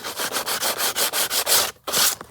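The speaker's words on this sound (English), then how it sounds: "I'm going to do a little sanding around the edges just to make sure" Rhythmic back-and-forth strokes of sandpaper rubbing along a wallpaper journal's paper edges, about ten quick even passes with a brief pause near the end.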